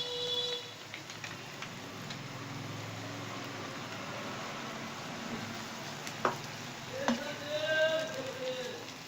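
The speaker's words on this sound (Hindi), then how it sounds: "और इसको अच्छी तरह से भूनते रहेंगे तकरीबन 20 मिनट तक" Stuffed qeema karela filling, minced meat with vinegar added, frying in a pan with a steady low sizzle, occasional stirring scrapes and clinks toward the end, fairly quiet and close.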